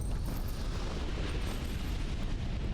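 A dragon exploding in the video game Dark Souls 2, a dense, loud, sustained rumbling blast that roars continuously without distinct separate hits and with no voices over it.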